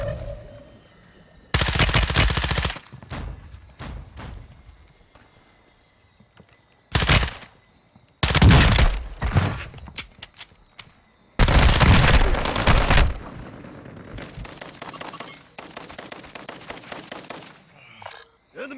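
Assault rifle fire in a Call of Duty Modern Warfare II quads match comes in several loud, sustained bursts separated by quieter gaps, with a rapid string of shots late on.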